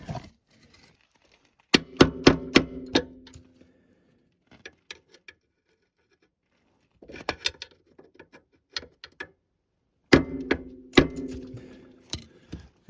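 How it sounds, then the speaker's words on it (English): Sharp metallic hammer blows on a screwdriver, bending a metal lip on a 1999 Honda Fourtrax TRX300 4x4 ATV, in three close bursts of rapid strikes separated by quiet gaps, with a few lighter taps between them. "I'm just going to take a screwdriver and a hammer and try to hammer that lip"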